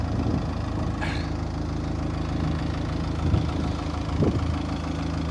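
An ADL Enviro 200 bus with a Euro 5 Cummins ISB 4.5 engine idles steadily up close, a constant low diesel rumble with a brief hiss near the start and a small knock later.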